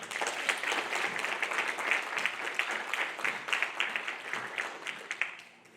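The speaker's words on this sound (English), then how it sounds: "Ladies and gentlemen, please give a round of applause for Dr. Mary A.Y. Okada" An audience welcomes a presidential search finalist to a university campus presentation with brisk, dense applause: many hands clapping steadily together, then tapering off quickly at the end.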